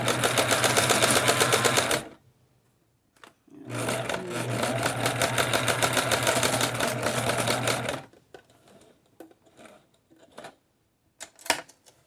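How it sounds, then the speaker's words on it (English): A sewing machine stitches thick chenille fabric for a pillow in two loud, steady runs, a longer second burst after a short pause, then quieter clicks and handling noises. "sewing on a thicker fabric like the chenille"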